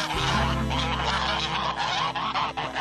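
A young fowl named Grey, a chick raised in a brooder, lets out loud, continuous honking cries close up. The calls run without pause for nearly three seconds, with no speech.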